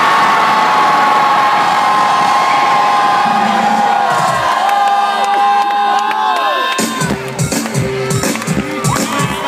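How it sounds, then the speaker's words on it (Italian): A concert crowd at a 2012 summer tour show lets out one long, loud collective scream, a dense sustained roar that holds for several seconds before breaking into scattered shouts and cheers. "Misuriamo il grado di stanchezza con un urlo più lungo e più forte che potete fare."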